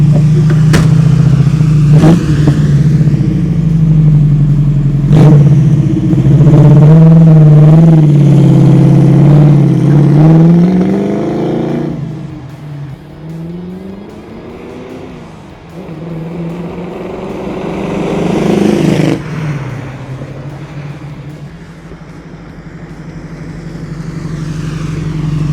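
A 1966 Ford Mustang Coupe passes by on several flybys, its engine note rising as it approaches and falling away as it recedes, loud up close and fading into the distance between passes.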